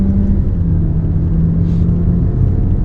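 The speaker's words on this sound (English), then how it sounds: "all you got to do is just step on the accelerator and it just goes up. Okay, this is the CVT working." A Honda CR-V 1.5 Turbo AWD with a CVT, accelerating up a hill road, heard from inside the cabin as a loud, steady low engine drone with a sustained even pitch and road rumble, and no voices.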